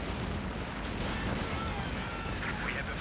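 Battlefield gunfire and artillery in the strategy game Company of Heroes 2 as flamethrower units advance, a steady dense wash of distant shots and rumbling blasts that runs without a break.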